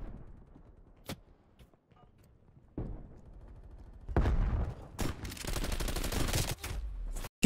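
Gunfire from a shotgun-type weapon in Black Ops Cold War multiplayer: a few sharp single shots early on, then dense, loud bursts of rapid fire toward the end.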